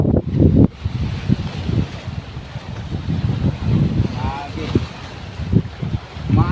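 Strong northeast monsoon wind buffets the microphone at sea in irregular gusts, with water sloshing and the low drone of a boat underneath.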